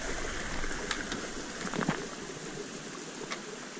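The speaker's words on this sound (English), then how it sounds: "Another waterfall along here." Waterfall beside the Exmoor coast path, a steady broadband rush of falling water heard close and continuous, with a few brief brighter splashes rising above the wash and no voices.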